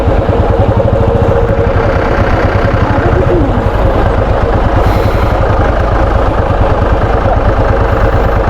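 A motorcycle engine idles steadily nearby on a roadside stop in Sikkim, a continuous loud low throbbing that holds throughout without talk.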